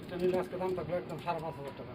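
Pigeons coo in soft, repeated throaty bursts at a breeding farm, fairly close and faint, mixed with people talking.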